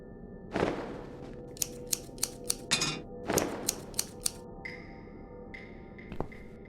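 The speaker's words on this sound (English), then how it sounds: "I'll need some scissors for that." Sharp metallic scissor snips cut through a dress in a horror adventure game, about half a dozen crisp cuts in quick succession, close and clear with no talking.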